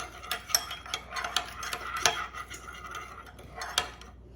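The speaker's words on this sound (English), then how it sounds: "So let's stir this around." A seasoning mix of salt and pepper is stirred with a utensil in a dish, producing light clinks, scrapes and rubbing taps in an irregular rhythm, close and fairly quiet with no speech.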